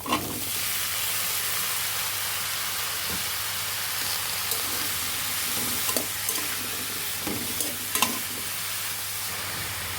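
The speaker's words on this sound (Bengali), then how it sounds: "আমাদের পেঁয়াজ ভাজা হয়ে গিয়েছে এখন আমরা কেটে রাখা বেগুনগুলো দিয়ে দিব এর মাঝে" Chopped eggplant goes into a pan of fried onions and sizzles steadily, with occasional spoon scrapes and clinks as it is stirred; close and continuous, with no talking.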